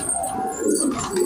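Patiala pigeons from a large flock give soft, throaty cooing calls, close and fairly loud, in one short continuous burst.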